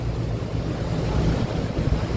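River water slapping and splashing in steady waves near boats at a popular riverside spot in Guwahati, Assam, a continuous low rushing wash with wind buffeting the microphone and no talk.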